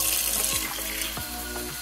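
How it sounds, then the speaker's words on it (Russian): Tap water runs steadily into a Braun shaver cleaning cartridge, a continuous close splashing gush with small gurgles as the cartridge fills, no voices. "включаем воду."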